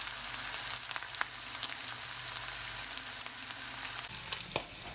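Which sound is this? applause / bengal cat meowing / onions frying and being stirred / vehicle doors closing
onions frying and being stirred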